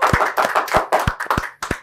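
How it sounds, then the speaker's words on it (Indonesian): A studio audience at an Indonesian talk show claps in unison, about eight loud, distinct claps in quick rhythmic succession, close and clear with no speech. "Boleh tepuk tangan semuanya Hensat"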